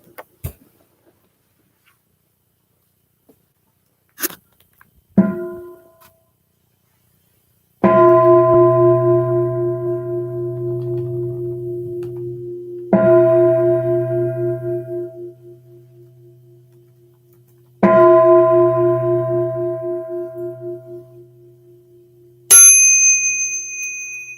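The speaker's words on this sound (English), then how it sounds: "we will begin with 3 sounds of the bell" Meditation bell struck three times at the opening of a livestreamed sitting, each strike ringing clear and long before slowly fading, after some brief knocks and light taps.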